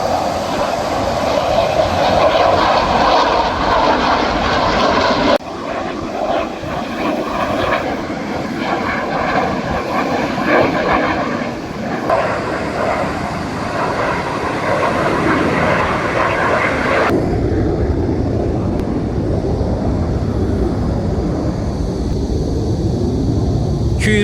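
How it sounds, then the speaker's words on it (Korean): A military fighter jet roars low over a city near an air base, a loud sustained broadband rumble that shifts in tone as it passes and slowly fades into lingering distant thunder. "좀 군용기 소리 때문에 시끄럽지 않으셨어요?"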